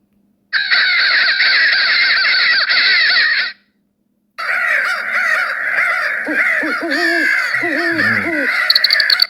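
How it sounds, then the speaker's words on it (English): Harsh, raspy crow caws played from the iHunt phone game-call app repeat in rapid bursts, a short gap, then more loud, dense cawing, thin and electronic-sounding as if from a small speaker. "a lot of people use crow calls"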